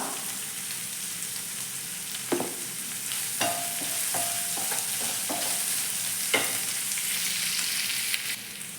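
Small onions sautéing with salt in hot oil for a prawn roast, a steady close sizzle broken by several sharp scrapes and clicks of a spoon stirring against the pan.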